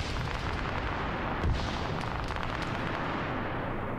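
Gunfire in a tactical police video game rumbles as a dense, continuous wash of distant shots and booms, with one heavier thud near the middle and no clear talk.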